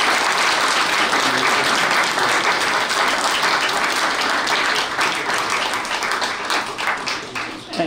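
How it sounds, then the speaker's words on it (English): An audience at a panel discussion on Israel and Palestine applauds the panelists with dense, sustained clapping that fills the room and then tapers off toward the end. "So let's give a big round of applause to our panelists."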